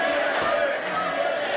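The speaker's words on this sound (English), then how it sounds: "The crowd's starting to chant, Jimmy, Jimmy, Jimmy." A wrestling arena crowd at a Midwest Championship match keeps up a loud, dense roar, with a rhythmic chant in the mix that matches a crowd calling the wrestler Jimmy Jacobs by name.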